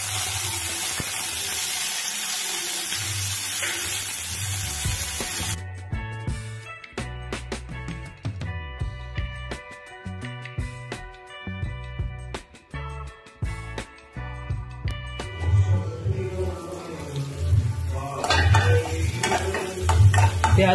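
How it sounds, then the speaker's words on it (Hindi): Onions stirred into potato and cauliflower frying in a pan for mixed vegetables, a bright sizzle at first, then clinking spoon scrapes and stirring knocks, with the frying hiss swelling again toward the end. "अब हम इसमें प्याज डालते हैं"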